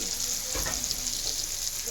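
Marinated meat frying with spices in a hot pan, a dense continuous sizzle close by with faint stirring, no talk.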